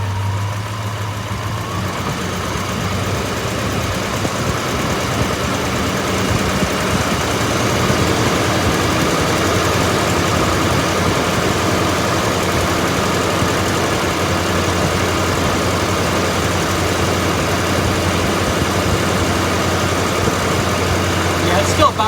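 A 1965 Ford Ranchero engine with an intermittent coil voltage fault runs steadily close by, its low, rough drone rising slightly as it is revved, with people talking over it throughout.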